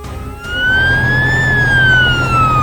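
An animated fire truck's siren wails loudly nearby, rising and slowly falling over a low engine rumble.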